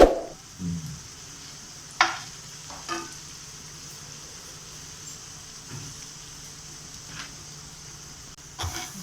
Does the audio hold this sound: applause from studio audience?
no